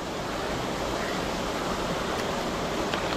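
A clear, cold mountain stream in Jammu rushes steadily in a dense, even wash of flowing water, close and unbroken, with no voices.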